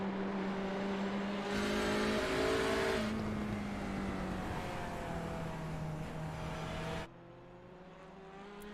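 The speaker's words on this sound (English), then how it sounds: "if you can hear those engines" Race car engines in a sim racing league event at Silverstone drone and shift pitch as cars pass, several overlapping tones rising and falling, then one fades abruptly and a quieter engine remains.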